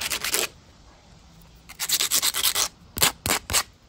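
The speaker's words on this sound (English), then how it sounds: "I'm just gonna smooth off the sides a little." Hand sanding along the sides of a wooden shoe shine box during a restoration, heard as close, rhythmic rubbing strokes in bursts: a short run, a pause, a longer series of quick strokes, then three sharp separate passes.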